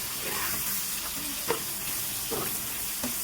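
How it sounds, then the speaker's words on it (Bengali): Shrimp seasoned with salt and red chili powder fry in a pan, a soft continuous sizzle with occasional small pops and crackles at a modest, fairly distant level. "মাছটা আমি ভেজে নিব।"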